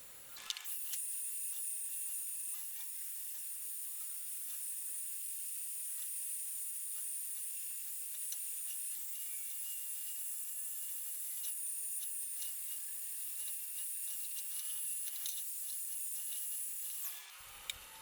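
A steel rod being ground, a steady high-pitched abrasive hiss that runs without a break for about seventeen seconds, close and even, then stops abruptly.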